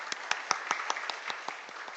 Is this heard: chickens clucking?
no